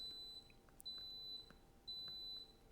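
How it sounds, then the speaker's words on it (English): Electronic beeps from a device in a quiet room, such as a smoke alarm or buzzer, sound in two faint, fairly long tones with brief chirps between them, and no one speaks. "Sorry about that beeping."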